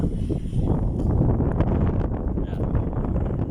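Wind gusts on a bridge buffeting the microphone with a steady low roar and rustling, constant throughout, no speech.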